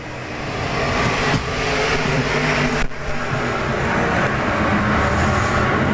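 IMCA Modified race cars run a heat race at Arizona Speedway, a dense, steady roar of several engines close by with no break and no talk over it.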